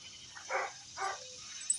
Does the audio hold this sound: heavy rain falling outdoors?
no